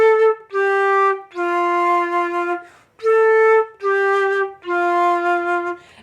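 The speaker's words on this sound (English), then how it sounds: "they'll end up having a clearer sound like this." Clear flute tone played with a small embouchure hole: six sustained notes in a steady phrase with brief breaths between them, bright and rich in overtones, close-miked and loud with no talking.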